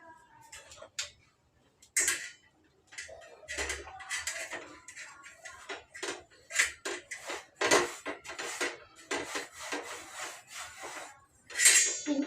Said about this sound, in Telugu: ఇదైతే ఒకసారి నీట్గా తుడిచేస్తా